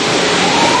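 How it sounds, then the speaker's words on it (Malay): An automatic sensor tap in Brunei sends out a close, steady rush of running water for under a second. "Oh, letak tangan air keluar."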